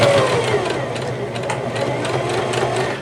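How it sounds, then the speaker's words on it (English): A Singer Heavy Duty 5554 sewing machine stitching fabric slowly, a steady close mechanical whirring hum with a faint rhythmic needle chatter throughout. "let me sew this one more time for you all"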